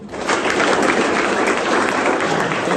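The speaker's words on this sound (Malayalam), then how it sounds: "ഒന്ന് ക്ലാപ്പ് ചെയ്തേ" A class of children at a school gathering with teachers and parents claps together, a loud, dense, sustained round of close applause that swells in quickly and stays even.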